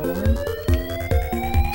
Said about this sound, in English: Come on, everyone, that's the fire alarm.